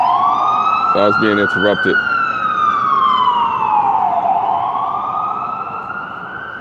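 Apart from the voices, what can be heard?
ambulance siren in the city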